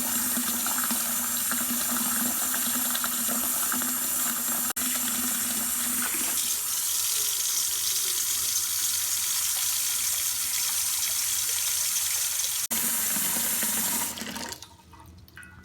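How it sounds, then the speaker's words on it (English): Tap water runs steadily into two large bowls set in a kitchen sink, a loud continuous rush and splash whose tone deepens as the bowls fill, then cuts off near the end. "Take those 2 big bowls, put them in your sink, and then fill them full of water."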